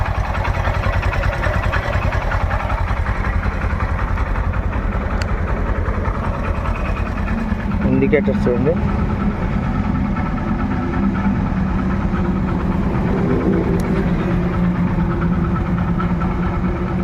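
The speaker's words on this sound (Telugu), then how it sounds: "ఇంజన్ కూడా రన్నింగ్లోనే ఉందండి" A 2018 Honda Livo motorcycle engine idles with a steady, throbbing low rumble, close and continuous, while someone says a few words partway through.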